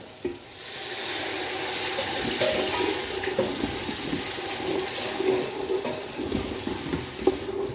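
Water poured into a pan of frying spices runs continuously with a gurgling, splashing texture, close by, for several seconds with no talking.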